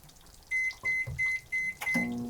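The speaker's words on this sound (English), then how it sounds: "they go back in the microwave for another 1 to 2 minutes" A microwave oven reheating Brussels sprouts in an RV kitchen gives a run of five short, evenly spaced electronic beeps, close and clear, over a low hum. It ends on a lower tone as the door is handled.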